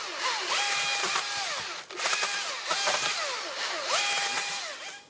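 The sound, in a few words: Husqvarna 536LiXP battery chainsaw running in eco mode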